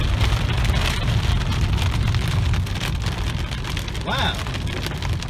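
Heavy rain from a severe thunderstorm in the desert near Victorville and Lucerne Valley, California, lands in big drops on surfaces around the listener, with a steady loud patter and a gusty wind roar throughout.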